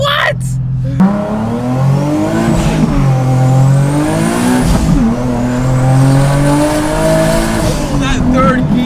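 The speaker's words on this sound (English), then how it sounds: "That was spinning tire in second." A Nissan 370Z V6 roars loud and close on a dyno, its engine pitch climbing and sweeping through a hard pull with the tire spinning in second gear, while voices talk over the noise.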